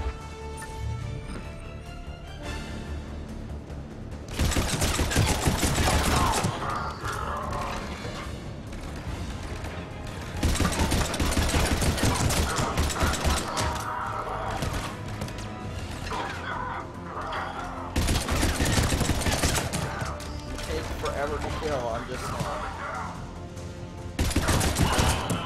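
Gunfire in the video game Mass Effect 3 comes in loud, sustained bursts of rapid shots and crashing impacts, separated by quieter stretches with game music and effects, and no one talking.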